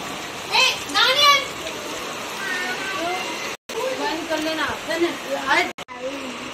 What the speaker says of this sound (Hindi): बारिश होने लग गई है